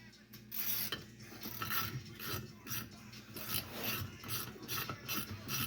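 A Craftsman 3/8 flex head ratchet, model CMMT86323V, clicks in quick irregular bursts of fine pawl ratcheting, close and faint, with short pauses between strokes and no speech.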